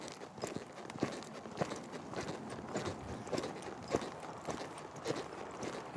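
Horse cantering in a riding session, hooves striking in a steady three-beat rhythm of soft, close clip-clops over a low background rustle.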